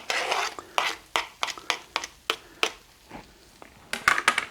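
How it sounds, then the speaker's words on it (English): Chopped onions are added and stirred into cooked, drained ground beef in a pan, with repeated sharp scraping strokes of a utensil and a light sizzle, loud and close. "I'm going to go ahead and add my onions to it"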